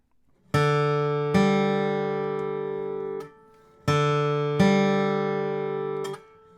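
A bluegrass bass run on acoustic guitar: plucked strings ring out in two pairs of sustained notes, each pair struck twice and left to decay, close and clear with no talking.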